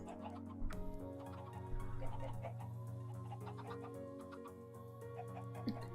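Many chickens in a modded Minecraft 1.10.2 world cluck softly over a steady tonal background hum, with scattered faint clucks and ticks throughout.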